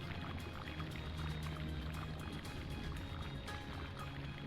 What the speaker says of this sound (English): it kind of sounds like it's water, but there's just enough solid, like, squish to that sound that makes it not water